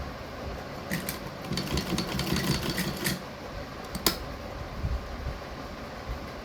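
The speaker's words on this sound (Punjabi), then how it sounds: "ਇੱਥੇ ਆਪਾਂ ਇਲਾਸਟਿਕ ਤੇ ਸਲਾਈ ਲਾਵਾਂਗੇ ਦੋਨੇ ਬਾਹਾਂ ਨੂੰ" A sewing machine stitches elastic onto balloon sleeves in short bursts of fast mechanical whirring, with quieter pauses and a few sharp clicks between runs.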